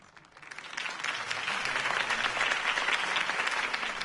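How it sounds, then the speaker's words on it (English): Crowd applause after a campaign speech in a Batman video game, a steady wash of clapping that swells in and holds at moderate volume. "If only Mr. Wayne, my campaign's largest backer, could have heard that applause"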